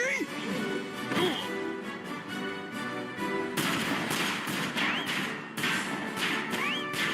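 Gunfire sound effects from a Wonder Woman toy scene, a run of sharp booming shots and thuds mixed with dramatic effects, loud and close, with a voice speaking over parts of it.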